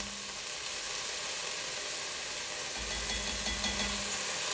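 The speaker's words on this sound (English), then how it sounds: "So I'm going to go ahead now and add 2 teaspoons of garlic." Minced garlic fries in olive oil with nearly cooked onion for a pot likker soup, giving a steady even hiss of sizzling at moderate level with no voices.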